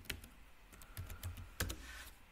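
A short command typed on a computer keyboard, a few soft, close keystrokes in quick succession with a final firmer press, quiet and alone.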